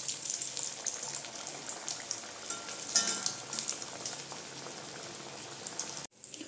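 Pea-filled matar shuti kachuri frying in hot oil, a steady close sizzle and crackle with bubbling that flares briefly midway, then cuts off abruptly near the end.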